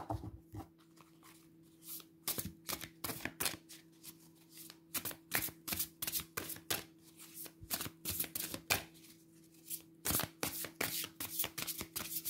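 A deck of oracle cards is shuffled by hand in close, repeated bursts of riffling and slapping, with short pauses between passes and no talking.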